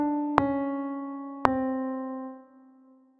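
Short ear-training melody with chromaticism, played as two clean sustained tones with sharp attacks about a second apart, ringing and fading slowly, quiet and alone with no voices.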